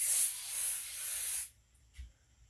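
A spray can hisses in a steady, loud burst for about a second and a half while lettering an S for sun, then cuts off, leaving near silence and one soft thump.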